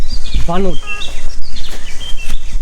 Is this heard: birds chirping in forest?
yes